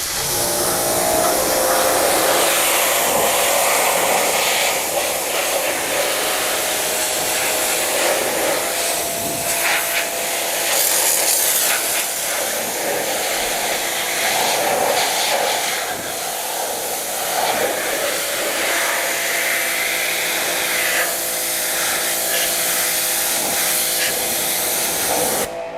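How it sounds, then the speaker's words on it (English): A pressure washer blasts bonded contaminants off the body of a 1963 Chevy Corvair, a steady, loud hissing spray running nearly continuously and close by for the whole stretch, with only slight surges in intensity. "Let's just use the washer here to blast any bonded contaminants."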